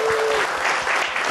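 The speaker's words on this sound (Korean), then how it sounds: "박수 한번 주세요" Studio audience clapping on a Korean TV talk show, a short dense burst of applause filling the whole moment with a faint tone at the start.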